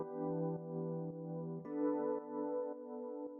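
Keyscapes software keyboard preset playing sustained, thick chords with a soft low end, each chord change marked by a gentle new attack, steady and alone with no talking.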